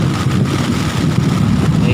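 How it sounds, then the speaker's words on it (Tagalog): Heavy rain and gusting wind batter a tent during a bike camping trip, making a loud, constant low rumble with buffeting noise close to the microphone. "So yan guys, lumalakas yung ulan."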